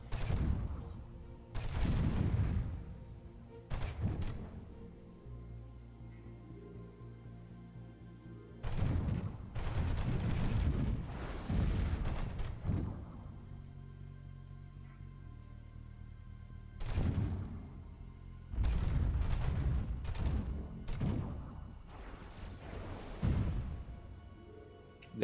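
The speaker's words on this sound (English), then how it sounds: "it seems like my laser cannons aren't firing as much as they should" Laser cannons firing in a space battle in the Master of Orion strategy game, heard as loud bursts of rapid gunfire-like blasts in several clusters with quieter stretches of low rumbling between them.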